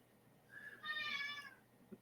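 An excited cat lets out a single drawn-out meow, rising and then fading over about a second against a quiet room hum.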